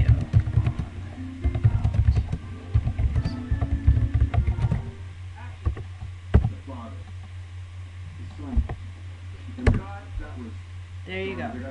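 Close, irregular clicking from a computer keyboard as a tweet is typed, busiest in the first few seconds and then thinning out to scattered taps, with a low hum underneath and a voice talking over it.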